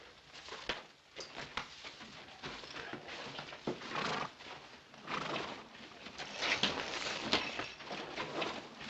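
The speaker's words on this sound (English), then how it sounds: "I'll take care of your horse." A horse whinnies amid busy hoofbeats and clatter, with faint bird chirps in the background; loud, near and continuous.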